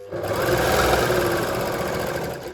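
An overlock serger runs steadily while stitching a draped fabric top, giving a loud, continuous mechanical whir with a fast, even rattle that stops at the end. Nobody talks.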